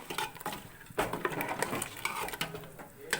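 A ladle stirs country chicken curry in a pot, with loose scraping and clinking strokes against the metal coming in irregular bursts, fairly close and moderately loud with no talk.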